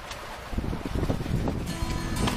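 Gusty wind buffeting close by, a rough low rumble that swells and roars continuously outdoors during a storm on a fishing platform at sea.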